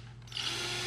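A drill bit cuts a rounded end into an ACS Composite functional lower brake vent for a C7 Corvette, a steady whirring drone that starts after a brief quiet moment and continues close and loud with no talking.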